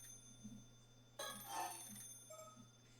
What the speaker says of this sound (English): Oh, it's the phone.